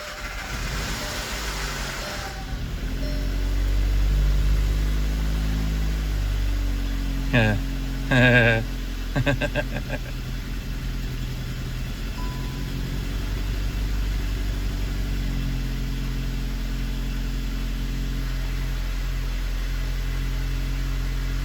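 A rebuilt 2015 VW Jetta 1.8T engine runs at a steady idle with a low, constant drone, broken by a few brief clicks and knocks midway.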